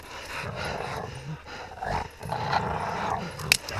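A hunting dog on a hog hunt pants and growls close by, with rough breathy bursts and low rumbles in outdoor bustle, and people talking around it.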